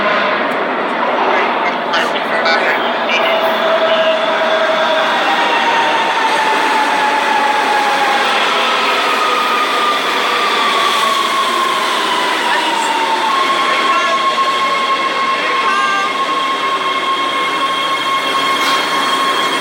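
A subway train rumbles loudly and continuously with long high-pitched wheel squeals rising and falling over the rolling noise.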